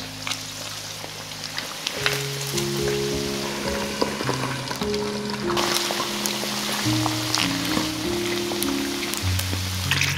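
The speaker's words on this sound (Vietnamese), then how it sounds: "mở lửa trở lại và tiếp tục chiên đến khi chân gà vàng đều nha" Steady sizzling and crackling of chicken feet frying in hot oil, loud and close, with background music running throughout.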